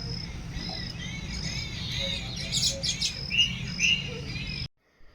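Sparrows chirp and twitter in quick bursts on a sunny morning over a steady insect-like hum, moderately close, ending abruptly.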